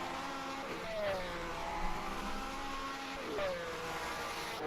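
1967 Formula One race cars roaring around a track in a racing game, engines whining as several cars pass and shift through gears, with a commentator talking faintly beneath.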